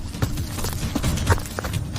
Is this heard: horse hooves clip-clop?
yes